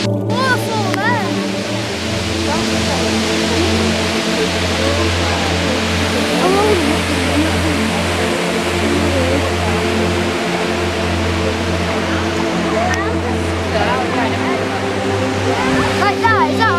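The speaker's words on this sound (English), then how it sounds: "Waterfall there." Aber Falls, a waterfall in North Wales, gives off a steady, loud broadband rush that continues without a break, with a low droning hum underneath.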